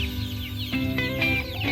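Free-range village chickens cluck and murmur close by while being fed by hand, a busy overlapping chorus of short clucks and calls.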